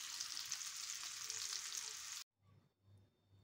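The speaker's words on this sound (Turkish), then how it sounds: "Şimdi diğer taraflarını da kızartıp servis tabağına alacağım." Loud steady sizzling of frozen beef meatballs with kashar cheese frying in a pan, cutting off abruptly into near silence with faint low clatter.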